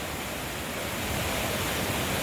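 A flowing river near the GT road at a nature resort, heard as a steady, loud, continuous rush of water that holds even throughout with no voices.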